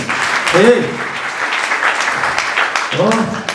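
Applause from a congregation inside a church during a pastor's ordination service at FGCK Ilng'arua, a dense steady clatter of hands lasting throughout, with brief voices rising over it near the start and again near the end.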